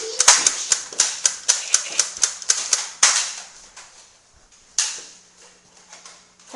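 Rapid sharp cracks of toy gunfire in a pretend WW2 battle game, a quick regular string of bright snapping shots followed by a few scattered louder pops with fading tails.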